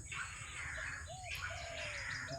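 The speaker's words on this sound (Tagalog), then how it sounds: "May mga spotted pang humuhuni." Spotted doves coo outdoors near farmland where pest-control trapping is going on; a few soft, rounded calls stand out among other chirping birds over a steady background hiss.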